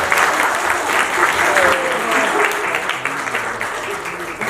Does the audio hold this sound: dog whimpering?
no